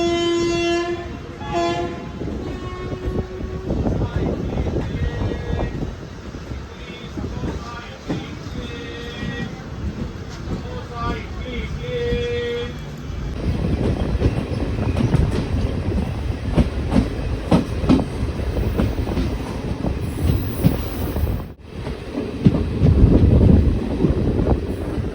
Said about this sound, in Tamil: இப்போ அந்த ட்ரெயின் கிளம்பிடும்.